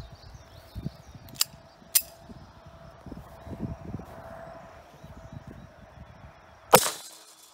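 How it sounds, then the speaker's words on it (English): A 71 grain full metal jacket 32 ACP round is fired at a Japanese Type 90 helmet, producing a single sharp, loud crack near the end, preceded by a few faint clicks and light handling taps. "Japanese Type 90 helmet, we're going to shoot it with a 71 grain full metal jacket 32 ACP"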